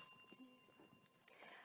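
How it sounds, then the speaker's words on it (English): A bell rings to mark the end of a section in a televised schools quiz competition, a single clear ringing tone that fades out slowly under faint room noise. "that bell signifies the end of section 1"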